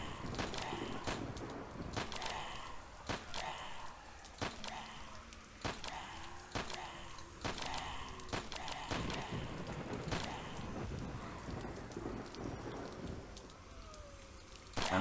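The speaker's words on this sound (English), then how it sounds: "we have sound effects of the gun firing and sound effects as we hit the zombies" Gunfire and impact effects from a browser-based JavaScript zombie horde shooter, with sharp clicks and pops repeating at a steady, fairly rapid pace over a continuous noisy background bed. Short tonal sweeps also sound.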